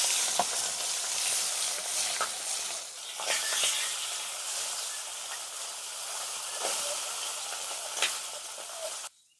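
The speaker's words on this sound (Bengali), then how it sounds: "ম্যারিনেট করা তেলাপিয়া মাছগুলো এবার এক এক করে ভেজে নেব" Marinated tilapia pieces fry in hot oil with a continuous bright hiss and crackle at moderate volume, with a few small pops and spatters along the way.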